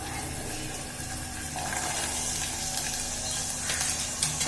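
Vegetables with chickpeas, tomato, asafoetida and garam masala sauté in a pan over a high gas flame, giving a loud, continuous sizzle and hiss with occasional stirring scrapes, close up, with no talk.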